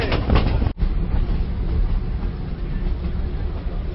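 A moving train heard from the gap between two coaches, a loud, steady rumble and roar with a brief dropout near the start.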